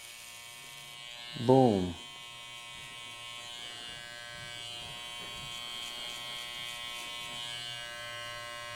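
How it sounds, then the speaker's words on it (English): Electric clippers shave beard hair at the bottom of the ear during a barber's fade, giving a steady close buzz throughout, with a short spoken word near the start. "So I'm just gonna shave all that off."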